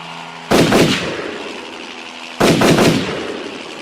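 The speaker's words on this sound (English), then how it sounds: "The two soldiers turned the gun towards the sky and Bond shot at the helicopter." Two loud, close gunshot blasts from a mounted gun firing up at a helicopter, each a sharp crack followed by a decaying boom, about two seconds apart.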